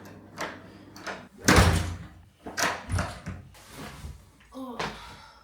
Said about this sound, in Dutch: Deur.